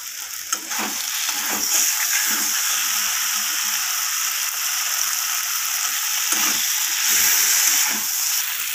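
Egg omelette curry masala with green chillies being stirred and sautéed in a pan, giving a steady close sizzle and frying hiss with soft scraping stir strokes throughout, no voices.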